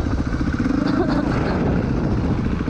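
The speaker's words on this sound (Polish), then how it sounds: "Sąsiad odpala Kawasaki." Neighbour's Kawasaki off-road motorcycle starting up at moderate distance, its engine settling into a loud, steady, throbbing idle that runs continuously throughout, with a voice briefly audible near the middle.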